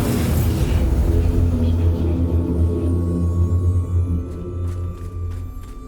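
The Bombarda blasting spell explodes in the Hogwarts Legacy video game with a loud, deep rumbling boom that fills the clip, fading slightly toward the end as a few faint crackles appear.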